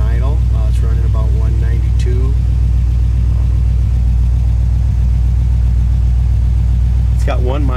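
A 1955 Chevy Bel Air engine idles with a loud, constant low drone close by. Voices talk over it at the start and again near the end.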